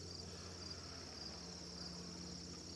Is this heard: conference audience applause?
no